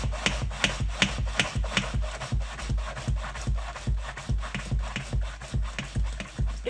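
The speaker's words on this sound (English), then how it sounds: "I'm going to bring up the plunger and I'm going to plunge it." A Pampered Chef whipped cream maker is pumped by its plunger in quick, regular strokes, each one a rubbing swish, repeating steadily and close by with no voices.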